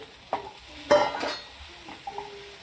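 Radish pods are stir-fried in a pan as a Maharashtrian vegetable dish. Quiet spatula scrapes and a few sharp metallic clinks sit over a faint, low sizzle.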